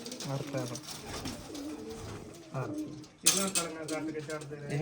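Flying pigeons kept by a hobbyist coo in low repeated rolls, close and continuous, while people talk among them and a louder burst of noise breaks in partway through.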